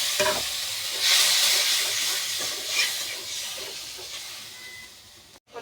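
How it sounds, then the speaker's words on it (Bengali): A spice paste with chili, fried in a pan and then loosened with water while cooking small fish with sweet pumpkin, sizzles and hisses loudly and continuously, with stirring and no talking. "কষানোর জন্য মশলাটা কষানোর জন্য পানি দিয়ে"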